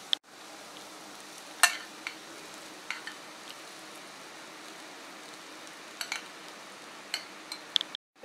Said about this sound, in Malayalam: ഇനി നമുക്കിത് നല്ലതുപോലെ ഒന്ന് ഇളക്കി കൊടുക്കാം.